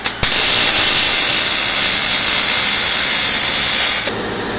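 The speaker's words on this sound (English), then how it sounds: "Go ahead and weld it." A header bung is welded onto a Can-Am Renegade exhaust header, giving a loud, steady, close-up hiss that runs unbroken for about four seconds before cutting off abruptly.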